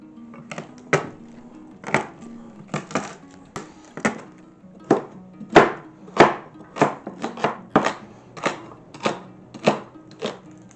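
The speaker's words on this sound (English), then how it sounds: "I'm going to chop up some celery and carrots" A knife chops celery and carrots on a cutting board, a steady series of sharp, close knocks in irregular bursts, with no talking.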